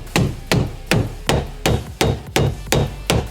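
A hammer strikes hard and close during cabin building, about eight sharp blows in a steady, evenly spaced rhythm, each ringing briefly before the next.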